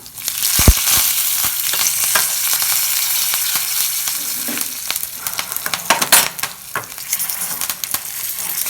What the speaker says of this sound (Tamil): பெருங்காயத்தூள் கொஞ்சம் போட்டுக்கலாம் சும்மா ஒரு ரெண்டு மூணு தலை கருவேப்பில் போட்டுக்கலாம்